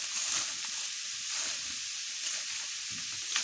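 Leafy greens sizzle and hiss in a hot pan as they fry, with a steady bright crackle and occasional stirring scrapes. The sound is close and fills the whole stretch.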